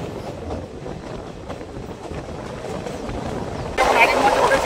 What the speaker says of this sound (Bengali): তো আমাদের ট্রেন মোরগ্রাম স্টেশন ছাড়লো